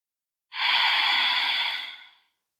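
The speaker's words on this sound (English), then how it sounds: "Spending 1 more cycle of breath here." A single slow, audible breath taken during a beginner yoga class, a smooth breathy exhale lasting nearly two seconds, close and fairly loud with no talking.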